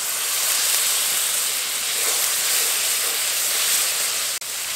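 Steady, loud sizzling hiss as masala-washing water is poured into hot, dry spiced masala sticking to a kadai while Bengali-style tel koi fish curry is cooked, continuous for several seconds and then cut off abruptly.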